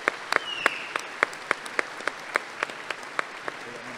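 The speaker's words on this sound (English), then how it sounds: "So let's give him and all the organizers a round of applause." Steady, evenly spaced claps from a small audience at a WWII 70th anniversary Victory Day ceremony in 2015, a sparse round of applause that stays moderately loud with no voices over it.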